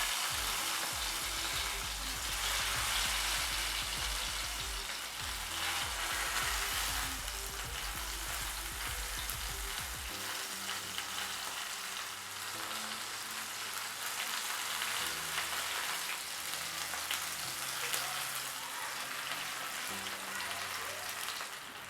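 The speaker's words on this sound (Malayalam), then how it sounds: "ഇനി ലോ ഫ്ലെയിമിൽ ഇട്ട് വേണം ഇത് പൊരിച്ചെടുക്കാൻ, കരിയരുത്." Stuffed okra frying in hot oil in a pan over low flame, a continuous crackling sizzle with dense spitting pops, alone and fairly close.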